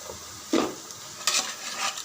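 Mutton pieces go into a pot for biryani, two quick bursts of sizzling and stirring against the metal pan over a low frying hiss.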